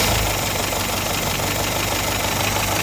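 The engine of a restored classic car idles in a steady, even rumble that stays close and unchanged, with no voices.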